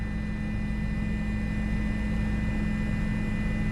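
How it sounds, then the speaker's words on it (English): Steady low rotor drone of a police helicopter hovering overhead during a cross-county police chase in Miramar, a continuous broadband hum with no break and no talk. "I see the helicopter right there looking."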